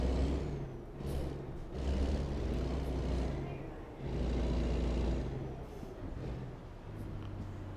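Kenworth W900 truck in American Truck Simulator, a low engine drone with bursts of air-brake hiss and pressure release, rising and falling across several seconds, no speech.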